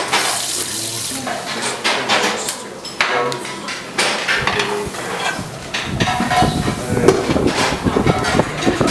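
Tap water runs steadily into a pot to cover pork belly for a Korean dish, with clinks and kitchen handling noises mixed in and a voice speaking over it.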